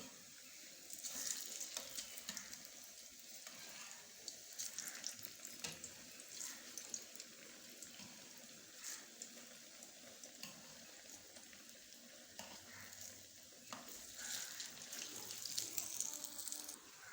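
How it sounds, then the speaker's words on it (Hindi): Dahi bhalla lentil dumplings fry in oil over low heat, giving a faint, continuous crackling sizzle that swells slightly at times, with no voices. "इस तरह से हम अपने सारे बल्ले फ्राई कर लेंगे।"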